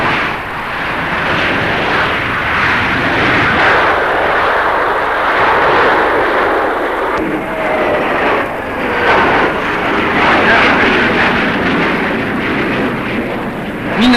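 Lightning and Hunter jets flying in formation at the 1962 Farnborough airshow, a loud continuous roar of jet engines that swells and holds steady throughout with no voices.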